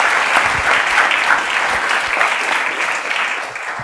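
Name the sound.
audience applause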